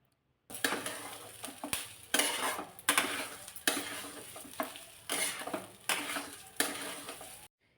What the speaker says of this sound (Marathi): एवढा मस्त असा तांदूळ भाजून घेतला.